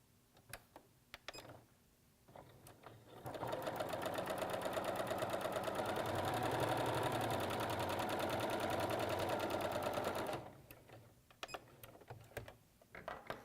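A sewing machine stitches a chain of half square triangle quilt pieces in one steady, fast run of about seven seconds, with quieter handling clicks and fabric movement before and after.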